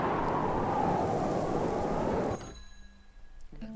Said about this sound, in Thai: ระหว่างที่พายุทรายมาเสียงมันจะดัง